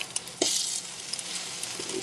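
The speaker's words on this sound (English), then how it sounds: "I'm going to lower the heat on it at this point so that it doesn't scorch on the bottom and it just kind of simmers" Sauce simmers in a pan on low heat with a soft steady sizzle and faint bubbling, broken by a few brief stirring scrapes and pops.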